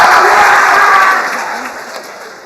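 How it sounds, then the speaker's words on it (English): An audience in a room bursts into loud applause, dense clapping close by that peaks at first and then gradually thins and fades over a couple of seconds. "Give it a clap for the back of the room."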